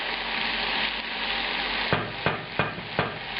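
Peppers sizzle and fry in a pan with pork, a steady bright hiss with a few sharp stirring knocks toward the end, close and alone.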